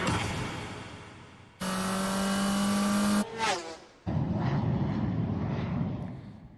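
A Concept G Racer go-anywhere vehicle with a 140 bhp V-twin engine: a loud, steady engine drone, then a quick rising-and-falling pass, followed by rougher, lower running noise fading away.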